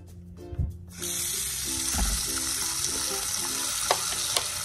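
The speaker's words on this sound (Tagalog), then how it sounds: "Banlawan po natin yung ating bagoong alamang dahil masyado po siyang maalat." Running water rinses salted shrimp paste (bagoong alamang) in a bowl, a steady close splashing hiss that starts after a second of clinks, with a few small knocks near the end.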